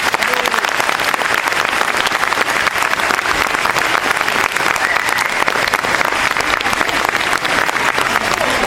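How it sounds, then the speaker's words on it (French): Steady, dense applause from an audience after a children's performance, loud and continuous throughout with no break or voices standing out. "Je pense qu'on peut les applaudir très fort pour leur prestation."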